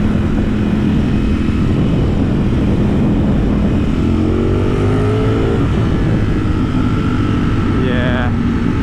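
A 2020 Ducati Streetfighter V4 S motorcycle roars steadily while riding, its engine note climbing and dropping with quick-shifter gear changes, loud and close throughout with wind noise.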